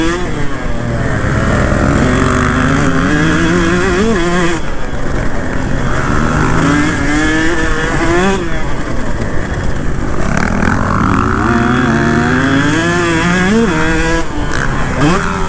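A KTM 150 SX two-stroke dirt bike rides hard, its engine ringing and rising and falling continuously at close range with repeated revs through gear changes and no break in the noise.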